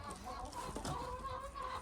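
Hens clucking near a rabbit hutch, a brief soft burst of fowl calls at moderate distance over outdoor background noise.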